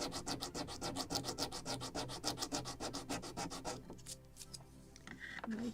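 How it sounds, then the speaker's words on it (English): Hand sanding of a wooden deck piece from a Model Shipways kit of the 1776 gunboat Philadelphia: steady rapid back-and-forth rasping strokes, close and loud, stopping near the end with faint handling noises. "so I need sanding."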